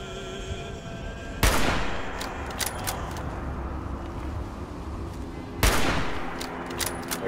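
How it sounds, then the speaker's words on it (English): Gunfire in Fallout 76: two sharp, loud shots stand well apart against a quieter background, with a few fainter clicks and pops between them. "Are you shooting at me?"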